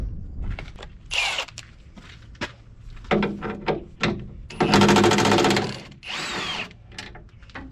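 A Milwaukee power tool works on the repair of a Cat 953C, running in short, loud, choppy bursts with a longer sustained whine near the middle and brief clanks between runs.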